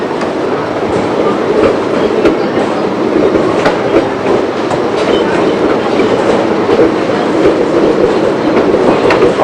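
A New York subway train runs on an eight-car line, its loud, steady rumble and clickety-clack of wheels over rail joints close by throughout, with no voices.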